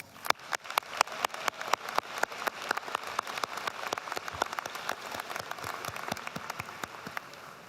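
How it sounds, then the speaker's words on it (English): Graduation ceremony audience applauding, many hands clapping in a steady, dense burst with sharp individual claps standing out, sustained throughout without any voices. "we should take this moment to give ourselves a big round of applause"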